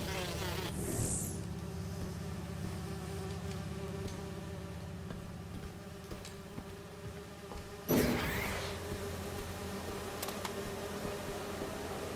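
A bee swarm in Marvel's Spider-Man 2 gives a steady, quiet droning buzz that hangs throughout, with a brief louder swell near the end.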